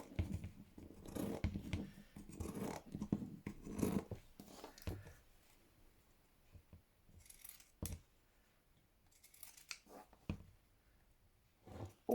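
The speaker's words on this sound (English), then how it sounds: "I'm just going to take my pinking shears, okay, and because it gives me a nice edge, and I'm going to cut" Pinking shears snip through fabric in a rapid run of crisp, crunching cuts, then slow to a few isolated sharp snips separated by quiet, all heard close and fairly soft.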